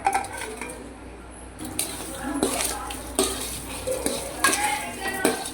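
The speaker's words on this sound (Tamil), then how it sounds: "மசாலா எல்லாம் கொழுக்கட்டையில் நல்லா ஒட்டுற மாதிரி நல்லா இந்த மாதிரி பரட்டி விட்டுக்கோங்க" Aval kozhukattai being tossed with masala in a pan, repeated metal spatula scrapes and clanks against the pan over a light sizzle, close and rhythmic, without speech.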